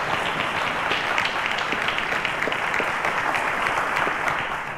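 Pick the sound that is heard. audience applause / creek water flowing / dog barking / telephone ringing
audience applause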